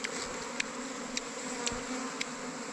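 Honey bees buzz around a wild hive outdoors, a continuous close droning hum with a few brief sharper ticks, no voices.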